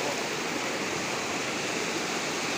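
Fast, fast-flowing floodwater of a river during a flood roars as a steady, dense broadband rush, loud and close with no pauses and no voices over it.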